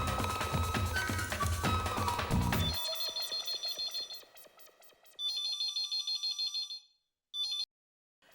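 A mobile phone call rings out in a comedy scene. Music fades into a sequence of electronic ringtone bursts that repeat in a regular pattern, with short silent gaps between them.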